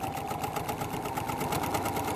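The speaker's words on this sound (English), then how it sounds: "And then I would stitch this by machine." A sewing machine runs a multi-step zigzag stitch on quilt binding, a continuous close mechanical hum with a rapid rhythmic pulse throughout.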